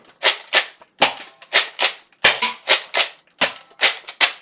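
A Nerf Hyper Impulse 40 blaster fires rapidly at a soft target, making a close, loud string of sharp snapping pops in quick bursts of two or three with short breaks between them.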